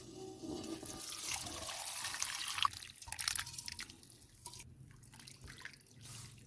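Cooked mutton is strained and its gravy drains and splashes in an uneven trickling pour close by, with drips and brief clatters as the liquid runs off.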